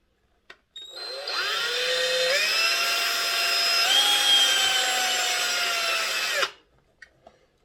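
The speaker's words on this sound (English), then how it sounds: "drill a little hole and screw this back on" A power drill whines steadily into a model railway coach for several seconds, pitch dipping slightly under load, then stops; a few faint clicks come before and after.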